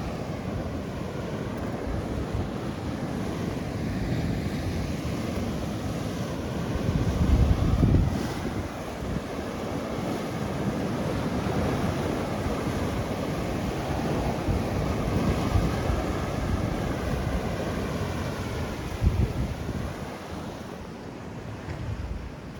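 Ocean waves wash onto the shore and tide pools at Natural Bridges State Beach in Santa Cruz, a steady roar of surf with heavy wind buffeting the microphone and a few louder swells.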